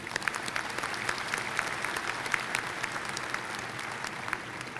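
Steady audience applause at a Virginia Tech graduate school spring commencement ceremony, many hands clapping continuously at moderate, somewhat distant level throughout, with no speech over it.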